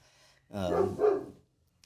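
A nearby dog lets out a loud double bark, two rough voiced yelps run together, in an otherwise quiet room.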